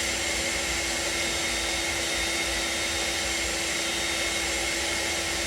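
The bean cooler fan on a Proton coffee roaster runs as a steady, loud whooshing whir with a constant high hum, unbroken and even for the whole stretch, with no talk.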